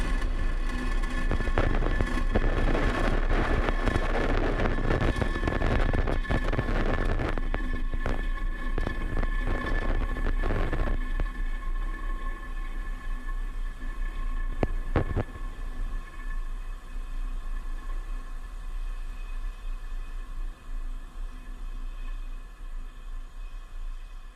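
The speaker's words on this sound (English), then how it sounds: "Engines full power. And liftoff of Space Coast Agency 0B." A SpaceX Falcon 9 rocket roars continuously just after liftoff, a broad steady rumble with crackling in the first half that thins and fades slightly toward the end, heard from a distance with no voices.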